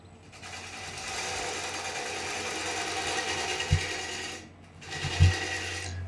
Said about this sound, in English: using the scraping cut to pull out of that little area